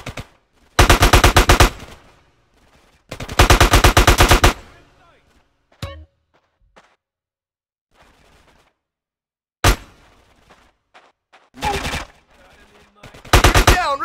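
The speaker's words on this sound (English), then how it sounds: "Get some suppressing fire in there." Automatic gunfire from a gang war shootout in the video game GTA San Andreas, loud sustained bursts of rapid shots in several separate volleys with brief single shots and quieter gaps between.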